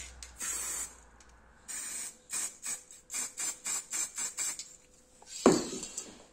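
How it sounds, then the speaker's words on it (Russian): Metallic spray paint hisses from an aerosol can in a quick run of short, evenly spaced bursts, followed by one louder, sharper hiss near the end, close by and quiet in the background. "Взял обычную краску в баллончике металлик. И сделаю пару пшиков."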